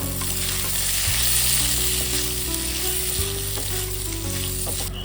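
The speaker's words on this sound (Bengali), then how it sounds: "আর একটু সবজিগুলো ভেজে নেব" Vegetables for veg pulao fry and are stirred in a pan after whole spices, with a steady close sizzle, bright hiss and intermittent scraping of the spoon throughout.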